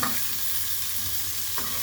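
Radish for chutney sizzles in hot oil in a pan, a steady close crackle with faint stirring scrapes at the start and again near the end.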